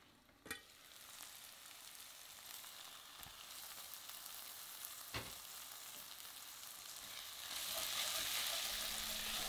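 Onions caramelize in a covered pan on the stove, giving a soft continuous sizzle broken by a few sharp clinks and knocks, with the frying swelling louder near the end.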